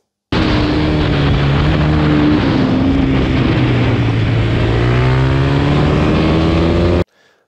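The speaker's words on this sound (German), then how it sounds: "Auf der Rennstrecke mit dem Zweitakter mit einer KTM." A KTM two-stroke motorcycle on a race track, its engine screaming loudly and close as the revs climb and dip in steady sweeps for several seconds before cutting off abruptly.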